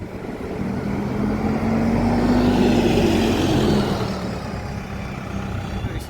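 Bus 8351 on route 24 to Sunderland idles and pulls through South Shields Interchange. A steady diesel engine rumble swells and then eases as it moves off, close by and loud throughout.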